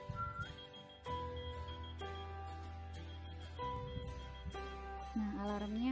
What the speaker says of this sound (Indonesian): Nah, alarmnya berbunyi kalau kita siul.